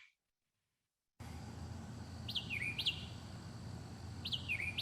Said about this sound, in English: a white-eyed vireo